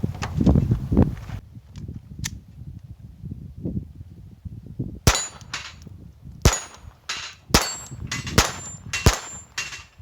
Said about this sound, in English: Let's try it out of a Glock 44, get some more plates up.